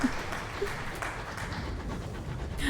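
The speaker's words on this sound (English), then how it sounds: "That was the sound of applause." Video game applause from a crowd patters continuously, a dense, moderately quiet wash of clapping without a clear start or finish.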